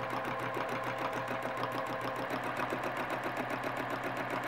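A sewing machine doing free-motion quilting on a flower design, a fast steady mechanical stitching rhythm that runs continuously at moderate loudness.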